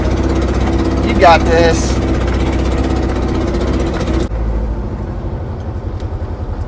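A 1981 Chevy LUV service truck runs at a steady mid-pitched drone while driving, with a brief pitch shift as it downshifts and then a lower rumble. Someone speaks briefly over the engine.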